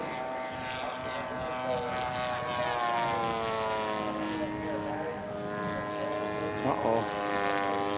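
A scale model airplane's propeller engine drones steadily overhead as it comes down on its downwind leg to land, with a continuous, moderately loud whine and faint talk underneath.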